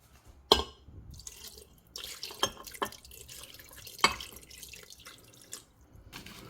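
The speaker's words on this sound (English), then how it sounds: "Now add water to cover the fish." Water poured into a cooking pot to cover fish for a Chinese crispy fish dish, heard as splashy bursts and drips with sharp splashes at a few moments, close by.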